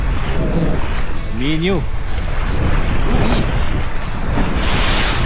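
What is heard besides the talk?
ocean waves and wind while sailing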